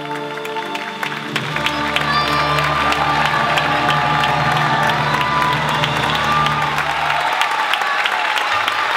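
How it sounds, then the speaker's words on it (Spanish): Crowd applause and cheering with whoops after a soloist at a Mother's Day serenade, swelling loud after the music ends and holding steady, with a singer's last notes fading at the start. "¿Cuántos aplausos ahí?"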